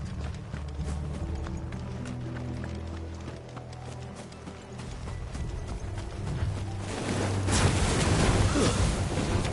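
Horse hoofbeats clatter over a dense Final Fantasy XVI soundscape of music and ambient rumble, growing louder and busier toward the end.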